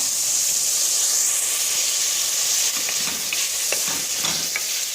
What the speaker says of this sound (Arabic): انا عندي هنا بطاطا قصيتها دوار راهي تتقلى